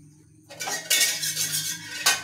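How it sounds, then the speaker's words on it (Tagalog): Plates and utensils clatter and clink together during dishwashing, a few close, sharp knocks and scrapes over a running, hissing background, with no voices. "Tayo maghugas muna ng pinggan"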